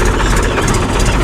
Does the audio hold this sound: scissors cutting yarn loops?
no